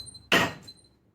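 A hard single strike of a metal punch knocking a half-inch hole through metal while building double barn doors: one sharp, loud impact with a brief ringing decay, close by and alone.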